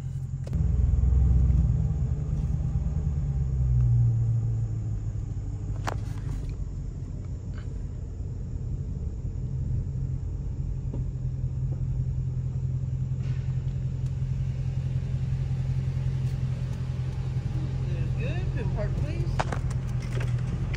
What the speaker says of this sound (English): so let me reverse real quick and move over there for her